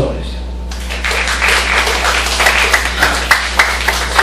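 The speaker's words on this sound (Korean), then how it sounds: "박수 한번 보내주세요." A youth church congregation gives a round of applause, dense clapping rising after a brief pause and carrying on steadily, with a low hum underneath and voices mixed in.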